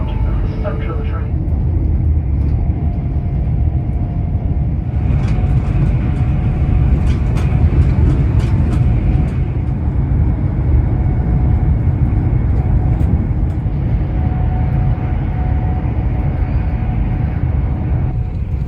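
A GWR Pullman train leaving Paddington rumbles steadily beneath the dining car, a loud continuous low roar of wheels and motion with faint clinks and rattles throughout.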